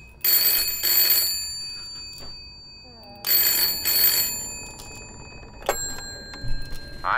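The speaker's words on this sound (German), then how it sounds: "Telefon." A bell telephone rings repeatedly in the horror game Layers of Fear, paired metallic bursts separated by pauses, with a shorter ring and faint clicks toward the end.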